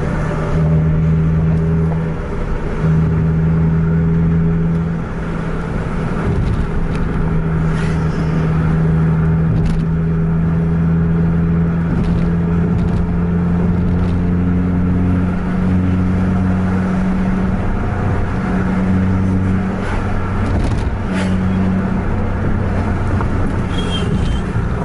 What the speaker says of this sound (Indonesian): Kalau Scania udah menjerit ini, suara turbonya kita dengar dari belakang karena Volvo senyap dia.